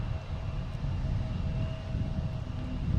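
An Etihad airliner at Boston Logan International Airport gives a steady low jet rumble with a faint tonal whine, moderately loud and constant, with no voices.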